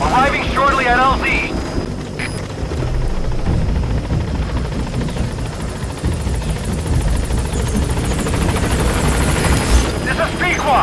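The Pequod helicopter in Metal Gear Solid V comes in to a landing zone, its rotor roar and thudding wash dense and loud throughout, with radio voices and brief speech at the start and near the end.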